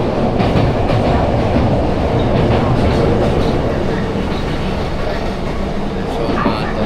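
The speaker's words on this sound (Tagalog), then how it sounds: "So, umaandar na yung train." A moving train in Japan rumbles along steadily, loud and close from inside or beside the cars, with rhythmic wheel clatter over the rails throughout.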